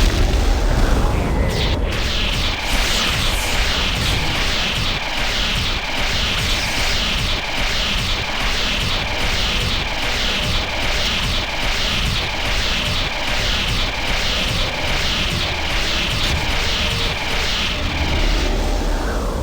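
Casting Missile of Patience in the Torment role-playing game brings a sustained, loud rushing blast with rapid rumbling pulses that hold steady for many seconds before easing off, with no pause.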